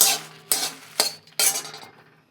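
Whole spices dry-roasted in a pan with no oil for mango pickle, four quick rattling scrapes as they are tossed, each a short bright burst over a dry metallic pan.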